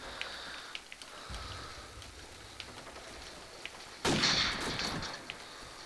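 Gunfire in a video game: scattered sharp reports against a dense, rain-like background, with one louder broadband burst near the end.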